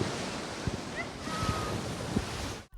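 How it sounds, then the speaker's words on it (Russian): Sea surf rolling and breaking on the shore at Ochamchira, a steady broadband wash with several soft thumps of breaking waves, close and fairly loud, mixed with wind noise on the microphone and no voices. "Волны моря, шум прибоя в Очимчире звучат как песня."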